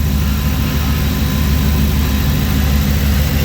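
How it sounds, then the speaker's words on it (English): A Chevy C10 truck with a stock 5.3 LS-swapped engine idles, giving a loud, steady low rumble with a constant drone and no talk over it. "We got the truck idling,"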